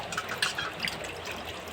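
Murrel fish rinsed under water running from a pipe, a steady close gush and splash of flowing water with no voices.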